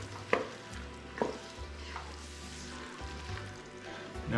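Mushrooms being stirred into a meaty lasagna sauce in a pan, with a steady low sizzle and occasional scraping clacks of the spoon against the pan.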